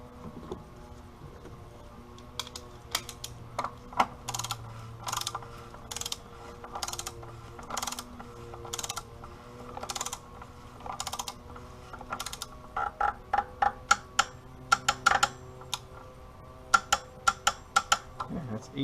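Oil drain plug on a Dodge Grand Caravan tightened with a ratcheting torque wrench: bursts of sharp, close metallic clicks in quick runs, pausing between strokes, over a quiet background.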